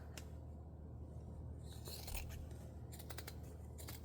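Scissors snipping through paper scraps for junk journal ephemera packs, a run of crisp close cuts and rustling paper, bursts of quick snips toward the end, quiet and with no talk.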